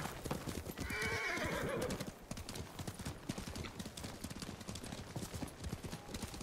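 Horses in the video game Ghost of Tsushima: a loud neigh near the start, then steady clip-clopping hooves moving along, fairly close, with a soft ambient bed behind.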